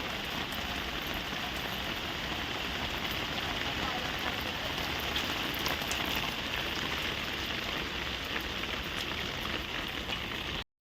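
Steady rain pours outdoors where a palm-flour bhakri is being cooked, with light wind, a dense continuous hiss that holds evenly for about ten seconds before cutting off abruptly.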